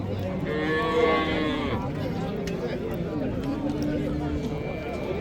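A cow moos at a livestock bazaar in Uzbekistan, a long, low call near the start and further lowing after it, mixed with the hubbub of people talking nearby.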